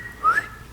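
A single short whistle, a person imitating whistling, a brief rising tone lasting under half a second over quiet background.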